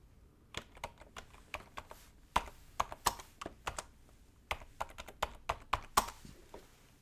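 Fingers type on a computer keyboard in short irregular bursts of crisp key clicks, close and clear, with small pauses between groups of strokes and no talk.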